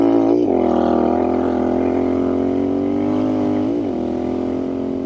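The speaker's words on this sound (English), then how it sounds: "A Royal Enfield 650 tear up the dirt type Scrambler." A Royal Enfield Scrambler 650 twin engine runs close and loud, revving steadily with two pitch shifts as the throttle changes, no talk.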